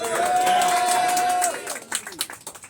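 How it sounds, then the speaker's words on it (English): A crowd at a political endorsement rally claps and cheers, with scattered applause that follows a steady tone and amplified speech, and the clapping grows more distinct toward the end. "Let's give the state young Republicans a cheer."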